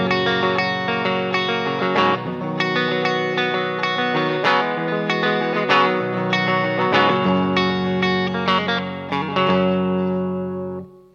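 An electric guitar plays a clean tone through a Marshall SL5 amp, ringing chords and picked notes with steady rhythm, close and fairly loud, with a slight chorus shimmer and no talking.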